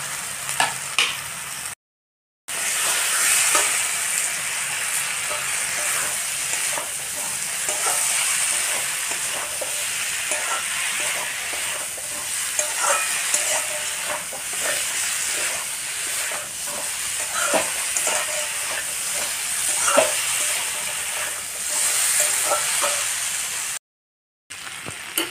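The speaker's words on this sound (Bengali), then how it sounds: "এর মধ্যে আমি আলু আর ফুলকপি এবার দিয়ে দেব।" Potatoes and cauliflower sizzle and fry in a hot pan with green chillies, a steady loud hiss broken by repeated scraping stirs, with a couple of brief silent gaps.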